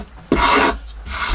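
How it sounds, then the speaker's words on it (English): A guitar body is hand sanded in a small workshop, with a short, close rasping stroke of abrasive on wood after a quieter scrape. "I'll take the rest out with hand sanding"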